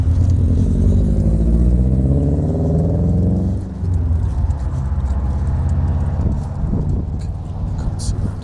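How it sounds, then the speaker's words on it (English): A car engine rumbles and fades while the car passes on a road near a junction, its steady drone lasting several seconds as a person talks nearby. "No, there's a car."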